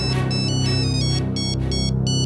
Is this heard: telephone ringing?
yes